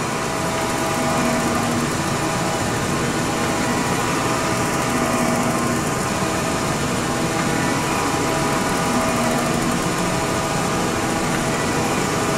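A Gould & Eberhardt Model 14 plain tool room horizontal shaper runs steadily with its cross feed engaged, giving a continuous mechanical hum and rumble at close range with faint regular knocks from the stroke, no voices.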